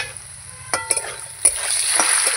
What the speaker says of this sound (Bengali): এবার লাল লাল করে ভেজে নেব